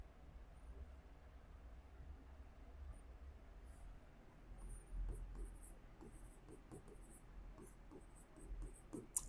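An equation is handwritten during a maths lesson, with faint, close scratchy pen strokes in quick short bursts that grow busier in the second half over a quiet room hum.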